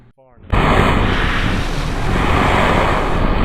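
A spacecraft in the video game Kerbal Space Program slams into water, a sudden loud crash after a brief quiet moment, then a sustained roaring, wave-like rush of splashing and wind noise.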